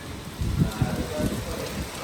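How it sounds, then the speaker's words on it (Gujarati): Steady rain falls outdoors as a continuous, even hiss, with a few slightly heavier patters on a surface. "એ વરસાદ કેવો આવે"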